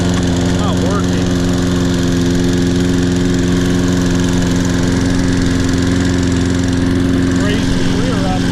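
A Toro Personal Pace Recycler 20332 self-propelled lawn mower engine runs continuously at a steady, loud droning idle close by, with faint voice-like traces over it.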